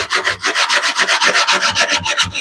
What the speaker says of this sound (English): what I'm doing is scraping up to the wall that we put up yesterday and sort of chiseling out any of the squeeze out